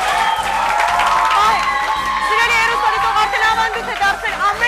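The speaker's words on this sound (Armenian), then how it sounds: "ծափարությունը շարունակվում է այս պահին" Studio audience clapping and cheering on a TV game show, sustained loud applause with whoops, under a presenter talking over it.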